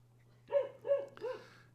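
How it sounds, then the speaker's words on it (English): A pet dog gives three quick barks close by, evenly spaced over about a second, against a low steady hum. "My dog was just drawn to bark."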